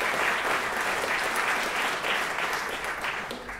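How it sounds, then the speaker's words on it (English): A hall audience gives a sustained round of applause for the local committee at a St John's venue in Kerry, dense and steady throughout before tapering slightly at the end. "I would ask you to give them a round of applause again"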